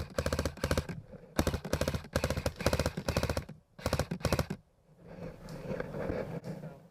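Rapid bursts of gunfire in a forest combat game, a gun shot blindly into bushes, come as several tight volleys with short pauses, loud and close, then fade into quieter rustling background.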